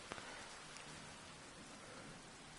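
Soft, steady rain falls throughout a Final Fantasy XIV video game cutscene, a faint even wash of patter with no other sounds.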